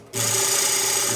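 Woodturning gouge pushed slowly into a large wooden platter spinning on a lathe, a steady scraping hum that starts abruptly and holds loud and even for the rest of the moment.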